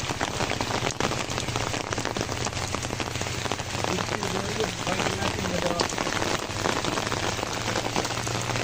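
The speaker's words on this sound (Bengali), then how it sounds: "আবার বৃষ্টি পড়া শুরু হয়েছে।" Heavy monsoon rain pours steadily onto waterlogged, knee-deep flooded streets in Dhaka, a dense continuous hiss and patter close by with no break. A low hum runs underneath throughout.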